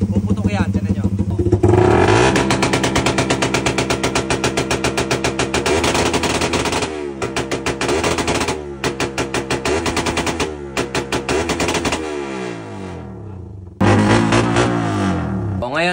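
A motorcycle exhaust backfiring at high RPM fires rapid, machine-gun-like bursts of loud pops over a revving engine, broken by a few short pauses.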